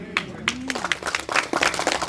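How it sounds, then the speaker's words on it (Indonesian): Scattered audience clapping at a community health house inauguration in Citerep, Cimahi, sparse uneven claps building into a thicker patter, with a brief tonal voice-like sound near the start. "Tepuk tangan boleh?"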